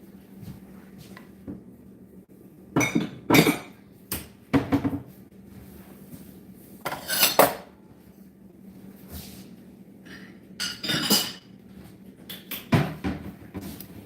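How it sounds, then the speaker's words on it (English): Dishes are put away in a home kitchen: a handful of separate clacks, clinks and cupboard knocks come in irregular bursts over about fourteen seconds, close, with quiet gaps between. "I'm actually putting dishes up"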